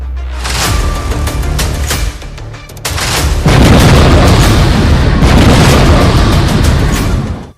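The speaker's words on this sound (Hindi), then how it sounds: "आईएस के ठिकाने पर हवाई हमला।" A US drone airstrike on an Islamic State hideout in Afghanistan sets off loud, heavy booming blasts, with a sustained roaring explosion rolling on for several seconds, with no talk.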